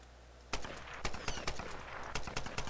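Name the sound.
machine gun firing in the video game Tomb Raider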